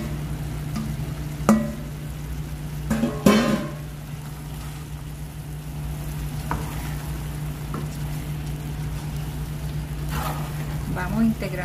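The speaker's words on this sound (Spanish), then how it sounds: "vamos integrando todos los ingredientes con el pollo para que el pollo vaya cogiendo el sabor de esta deliciosa crema" Shredded chicken being stirred with a cream sauce in a pan, giving a soft steady sizzle over a low hum, with scattered scraping and spoon knocks now and then.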